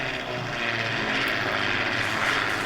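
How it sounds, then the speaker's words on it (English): Propeller airplanes drone overhead in Farming Simulator 19 on the Oakfield Farm map, a steady, fairly loud engine hum lasting a few seconds without speech. "Airplanes, yay, airplanes."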